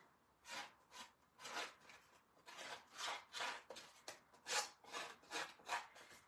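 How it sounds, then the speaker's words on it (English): Snips scrape along the edges of card paper to distress them, a series of about a dozen soft, rhythmic rasping strokes, faint and close, with no talking. "So take my snips and just kind of go around the edges"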